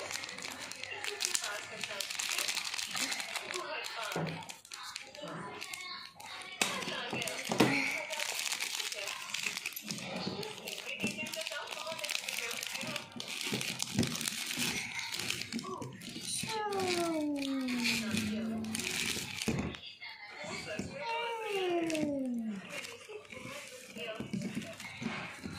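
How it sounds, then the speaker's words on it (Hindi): Polythene bag crinkles and crumples close by as it is cut and packed with clothes, irregular rustling bursts under near-constant talking, with a voice also heard. "इसी वाली पॉलीथीन को काट के मैंने इसी में पैक कर दी है"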